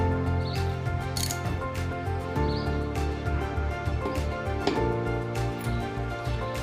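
A wrench tightens a bicycle cassette lock nut: close, irregular ratcheting clicks and metallic scrapes with short pauses, no voices.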